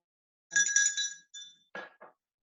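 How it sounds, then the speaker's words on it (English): A small bell rings with bright, clear tones, one long ring followed by a few shorter, fading strikes, set against complete silence. "You may also ring the bell."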